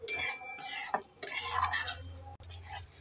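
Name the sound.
stirring and sautéing spice paste in a pan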